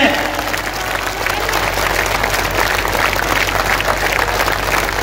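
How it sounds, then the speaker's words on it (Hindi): Sustained applause from the audience at a Ram Navami religious assembly in Mudkhed, held at steady strength for the full length with a dense crowd wash and no gaps. "ये आपकी तालियां धर्मवीरों के नाम हो जाए, देश के किसानों के नाम हो जाए"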